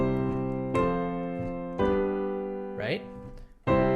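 A keyboard plays a I–I–IV–V chord progression, with four sustained harmonic chords struck in a steady sequence and a brief sliding vocal-like sound between the third and fourth, played up close with no talking.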